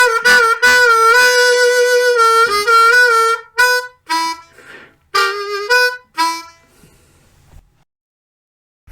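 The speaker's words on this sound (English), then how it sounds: "Now putting the 3 sections together, bars 5 to 8 sound like this." A blues harmonica plays bars 5 to 8, a loud, close run of sustained reedy notes followed by shorter choppy phrases that trail off into silence.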